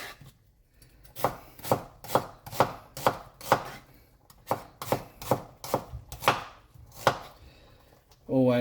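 A sharp knife chopping food on a board, about fourteen crisp, evenly spaced chops in a steady rhythm, close and clear, with a short voice at the very end.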